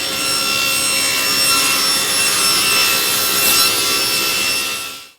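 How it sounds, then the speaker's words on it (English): A power saw rips plywood scrap to width, producing a continuous bright, loud cutting whine with a woody rasp. It holds steady for about five seconds and then spins down abruptly at the end. "that's all I'm doing now is just ripping scrap to size"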